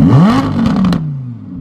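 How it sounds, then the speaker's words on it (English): An Audi R8 engine revs hard and close, its loud roar rising and then easing off, with a throttle blip near the middle and a quieter, falling idle afterwards. "Wow! I forgot how loud this car is."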